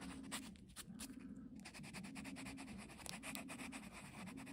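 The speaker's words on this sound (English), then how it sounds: "if I sand backwards against that scratch, I'm going to smooth that back area out more" Sandpaper rubbing back and forth over a scratch in full grain leather, a close, steady abrasive scrape with repeated strokes and no talking.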